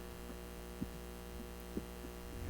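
An electric fan gives off a steady low electrical hum, faint and continuous, with a couple of soft thumps and no talking.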